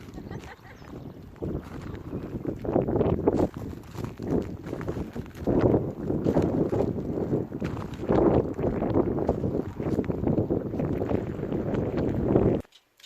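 Wind gusts steadily and loudly across an outdoor caravan park near Looe in Cornwall, buffeting the microphone with a low rumble for the whole stretch.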